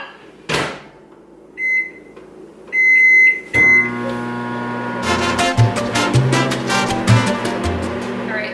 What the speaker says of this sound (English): I'm going to nuke it for a second in the microwave.